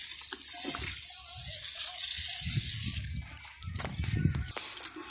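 Water is filled by hand into a tank for a manual sprayer used on crops, a bright running hiss with irregular splashing and gurgling pulses, close and moderately loud.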